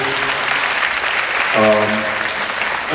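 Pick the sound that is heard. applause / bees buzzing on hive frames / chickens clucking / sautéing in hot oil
applause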